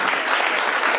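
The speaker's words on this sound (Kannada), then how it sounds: "ಜೋರಾದ ಚಪ್ಪಾಳೆ" Loud, dense applause from a crowd at a school farewell party for SSLC and PUC students at Rangayana, as a poet is welcomed onto the stage. It holds steady and close for the whole moment, with no talk over it.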